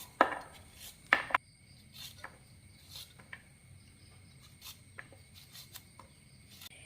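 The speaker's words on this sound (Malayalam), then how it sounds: "കോവയ്ക്ക നമുക്കൊന്ന് നീളത്തിൽ അരിഞ്ഞെടുക്കാം." A knife slices ivy gourd lengthwise on a board, giving two crisp, close cuts near the start followed by softer, scattered taps, with faint insect chirping in the background.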